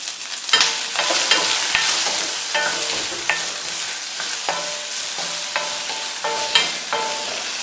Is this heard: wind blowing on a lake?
no